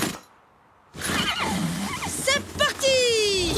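A cartoon horse in the animated children's series Ollie et Moon neighs in a rising, quavering whinny near the end, amid lively talking and background sounds.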